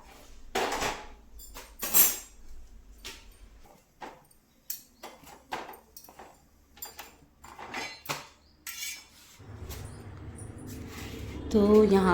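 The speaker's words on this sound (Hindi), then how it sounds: "थोड़ा बहुत बर्तन थे, इनको मैं फटाफट धो लेती हूँ" Dishes, pots and utensils clatter as they are washed in a home kitchen, with irregular sharp clinks and knocks scattered throughout, then a steady rush of running water near the end.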